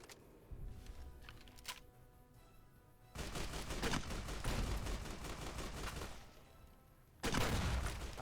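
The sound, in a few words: grenade rifle firing in Fallout: New Vegas video game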